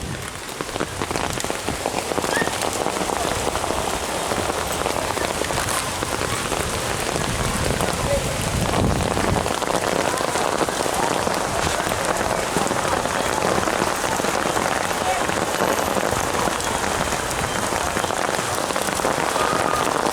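Steady, dense rain falls on surfaces at an outdoor water park, a loud continuous hiss and patter that lasts throughout without letting up.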